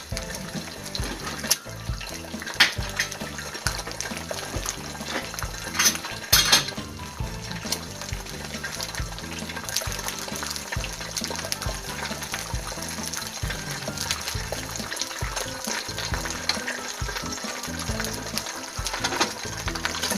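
Eggs frying in a frying pan with a steady, fairly loud sizzle and hiss that runs the whole time, under a regular rhythmic background beat.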